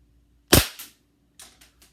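Airsoft Makarov pistol fired through a chronograph: one sharp, loud close shot with a brief echo tail, then a few quieter clicks and taps of handling in an otherwise quiet room.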